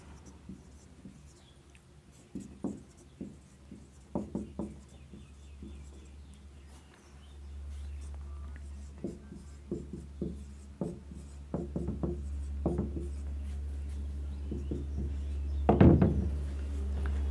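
Marker or chalk scratching in short strokes on a board during a maths lesson on number-system algebra, intermittent rubbing bursts over a low steady hum, no voice.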